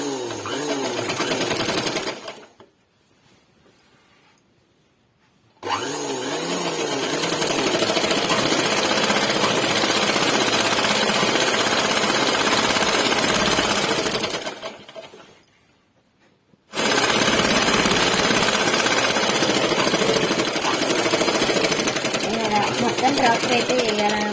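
Sewing machine stitching skirt fabric runs in two long steady bursts of rapid mechanical chatter, loud and close, with short pauses between runs.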